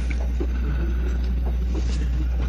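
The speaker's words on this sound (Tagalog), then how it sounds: "Ang lamig kasi ng simoy ng hangin dito." Steady wind rumbles and buffets across the microphone, a low constant roar with faint rustling on top, no voices.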